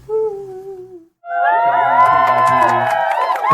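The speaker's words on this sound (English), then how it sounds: "round of applause, thank you." Audience at a live music event at Third Man Records erupts into loud cheering and whooping with crowd noise, starting abruptly after a short lull that follows a brief tonal sound, then sustained and close.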